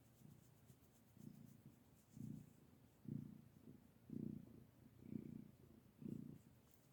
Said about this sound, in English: Can you guys hear how loud she's purring?